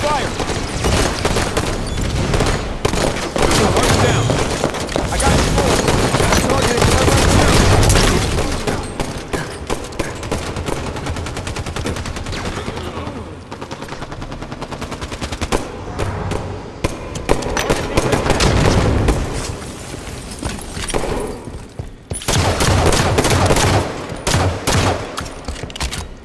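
Dense, sustained gunfire and explosions from a Halo 5 multiplayer match: near-continuous bursts and booms for most of the stretch, with a short lull midway, and a voice calling out beneath the shooting.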